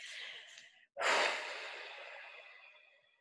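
A slow, steady exhale during a sophrology breathing exercise for stress relief, a soft breath near the mic that swells after a brief pause, then tapers off gently over a few seconds.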